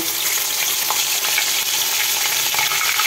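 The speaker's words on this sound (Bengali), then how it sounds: "রোস্টের জন্য যে মাংস কেটে রেখেছি ওগুলো ভেজে নিব" Chicken pieces for a roast fry in hot oil, a dense, even sizzle that stays close and loud for the whole moment, with faint stirring crackles and no voices.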